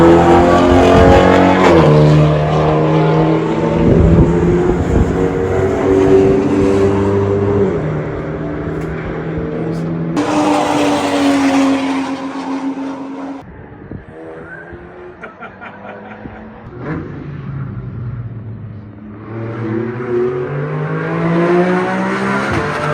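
Race cars on the Nurburgring roar past a hotel balcony one after another, engines rising and falling in pitch as they approach and recede, with gear changes and brief quieter gaps between loud passes.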